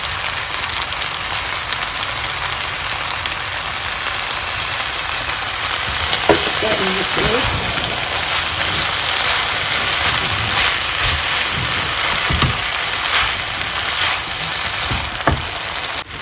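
Soy sauce splashes into a pan of stir-frying spaghetti with vegetables, chili flakes and sausage, giving a loud, steady sizzle that runs throughout with occasional clatter of stirring.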